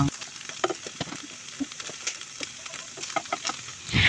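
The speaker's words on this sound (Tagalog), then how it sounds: "ginisa ko na yung sibuyas at saka bawang" Onion and garlic sauté in hot oil for pork adobo with oyster sauce, crackling with irregular pops and spatters close by, joined by scraping stir strokes and a louder sizzle burst near the end.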